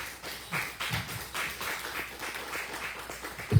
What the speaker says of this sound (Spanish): Dámosle un aplauso a Dios.